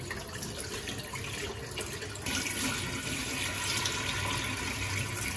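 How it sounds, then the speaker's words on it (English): Water drains slowly from processed cassava during flour and starch making, a continuous trickling hiss that grows somewhat louder partway through and then holds steady. "Just draining the water slowly."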